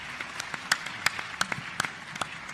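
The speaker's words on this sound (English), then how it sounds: "Let's give them another round of applause as they leave the set" A summit audience claps in a scattered, irregular patter of individual hand claps, moderately distant and fairly quiet.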